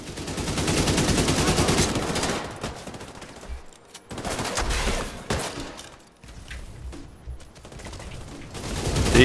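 Dense automatic gunfire from The Division 2 video game, loud sustained bursts with brief pauses between volleys, rattling on for several seconds with no talk.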